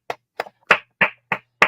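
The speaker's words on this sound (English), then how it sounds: "I liked it till you start clapping." Six sharp hand claps ring out close by at an even, unhurried pace, each one a crisp isolated crack with silence between.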